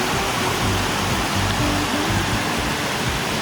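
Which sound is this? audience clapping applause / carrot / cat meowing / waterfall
waterfall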